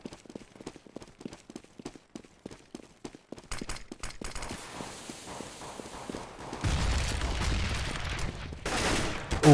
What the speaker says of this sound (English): AK fire being taken